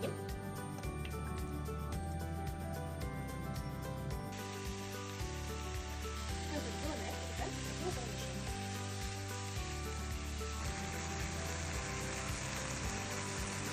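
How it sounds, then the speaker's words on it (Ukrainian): Steady sizzling of carrots frying in oil in a pan, a continuous crackling hiss with faint background music. "Тепер нам треба обсмажити моркву з медом трошечки до золотистості."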